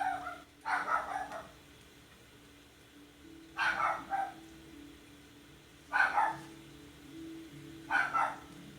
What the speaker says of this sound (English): don't know what's she barking about.